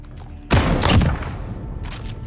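Close, loud shotgun blast from Call of Duty: Modern Warfare gameplay, with a second, fainter report shortly after.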